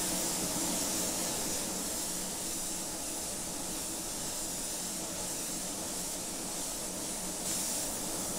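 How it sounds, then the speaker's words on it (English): A 0.8 spray gun sprays deep black paint with a steady, continuous hiss that stays even and close for the whole stretch, with no talking. "I'm coming in now with a .8 spray gun,"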